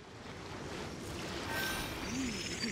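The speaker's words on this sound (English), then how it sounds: "the waves are as calm as always" Gentle ocean waves in Genshin Impact wash softly and continuously with a faint windy hiss, quiet and steady, a few faint tonal game sounds drifting over them.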